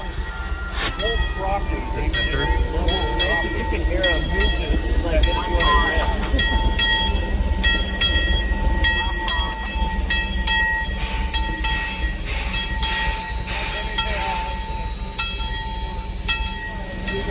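A train at a steam railway event rolls past with steady low rumble and repeated clanking of wheels and couplings, with a sustained tone and bright metallic squeals over it, loud and close, with some talk in the background.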